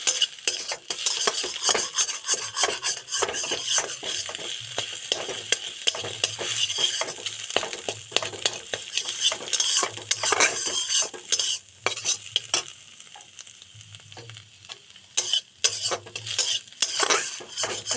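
Taro stolon curry with salt and turmeric frying in a pan, with a spoon scraping and stirring in frequent irregular strokes over a soft sizzle, close and clear with no voices.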